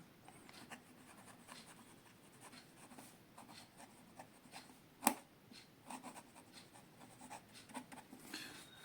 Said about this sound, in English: Now some reverse writing.